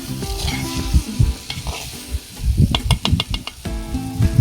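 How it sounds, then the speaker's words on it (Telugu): Goraja fish are stirred in a clay pot of simmering Andhra-style pulusu, with soft sizzling under scraping and knocking of a spoon against the pot. The strokes are close and uneven, with a run of quick clicks near the end. "అలా చేపలన్నీ వేసిన తర్వాత ఒకసారి గట్టితో కలుపుకోవాలి."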